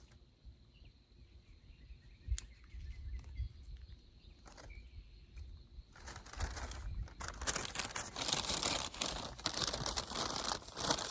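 Freshly cut garden herbs being gathered and stuffed into a bag outdoors, a close, steady crinkling and rustling that grows denser and louder in the second half, with faint insect and bird sounds in the background.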